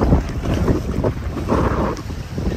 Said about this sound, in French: Alors, il y a des bonnes petites vagues.